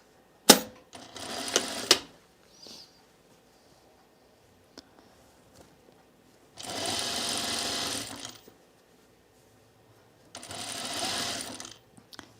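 A domestic sewing machine stitches the underarm seam of a dress sleeve in three short bursts of rapid whirring and clatter, separated by near-silent pauses with faint handling clicks.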